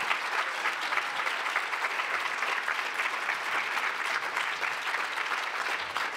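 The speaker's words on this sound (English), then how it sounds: "Can we have another round of applause for Esther and Tavneet?" A conference audience applauds steadily and fairly loudly, a dense continuous patter of many hands with no speech over it.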